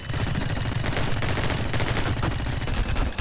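Gunfire in the action shooter My Friend Pedro, rapid continuous automatic bursts that crackle loudly and densely, with no pauses, while aircraft attack.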